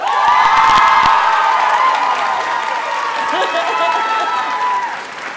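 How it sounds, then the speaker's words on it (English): An audience at a K-pop dance showcase breaks into loud applause and cheering after a performance, with high whoops and shouting voices over dense clapping that swells early and gradually eases off. "another big round of applause for that fantastic show"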